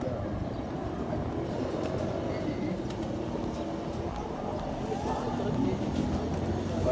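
Red-eye pigeons coo softly in a loft amid a constant low ambient rumble, the calls faint and blended into the background.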